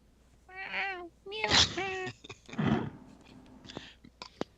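A human voice imitates a cat, giving a couple of drawn-out meows mixed with breathy, whispery sounds and soft clicks, close to the listener.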